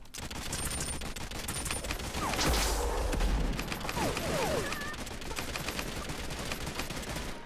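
Rifle gunfire in the battle royale video game Realm Royale: a dense fusillade of rapid shots and impacts with a loud burst in the middle, continuing steadily under game sound effects.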